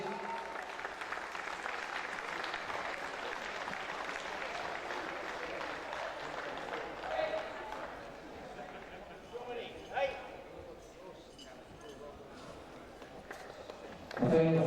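A crowd applauds medal winners and competitors at the EKF National Championships 2017, with sustained clapping in a large hall that gradually thins and fades toward the end.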